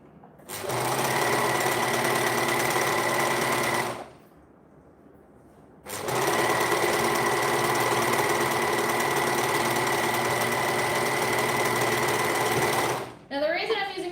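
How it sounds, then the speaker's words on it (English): An overlocker runs along the edge of tutu fabric in two long bursts of rapid, even machine stitching, close and loud, with a short pause between them and a brief rustle at the end. "And then we're going to overlock that edge."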